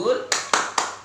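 A group in a training session claps together in three sharp, evenly spaced bursts as a cheer, loud and close, right after a voice.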